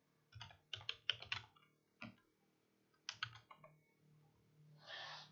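Code being typed on a computer keyboard in quick bursts of close, crisp key clicks separated by short pauses, with a softer rustle at the end and no talk.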